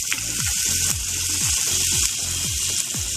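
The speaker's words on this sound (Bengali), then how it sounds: "তো আলুটা দিয়ে দেবো আমি তেলের মধ্যে" Chopped potatoes go into hot oil in a pan and sizzle steadily, a constant close hiss with faint crackles and repeated soft tool knocks underneath; no one speaks.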